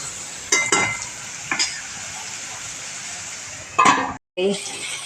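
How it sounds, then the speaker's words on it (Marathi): Roasted chickpeas rattle as they are stirred in a dry pan at home, giving a few loud close scraping bursts over a steady background hiss, with a brief cut to silence near the end. "हरभरे आपले व्यवस्थित भाजले गेले हे बघा आवाजही येतोय खुळखुळ"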